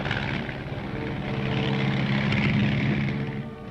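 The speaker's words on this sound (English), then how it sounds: "Among the aircraft used are the L-19, a standard observation plane" Steady, loud drone of an L-19 observation plane's propeller engine, a continuous hum with tonal harmonics that swells slightly mid-way, heard alone without talk.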